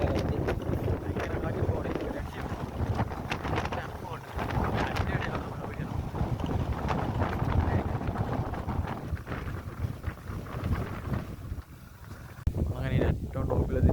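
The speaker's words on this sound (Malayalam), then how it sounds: "ഭയങ്കര കാറ്റ്." Strong wind buffeting the microphone on a hilltop at Ilaveezhapoonchira in Kottayam, a loud continuous rumbling roar that persists throughout, with a voice speaking over it.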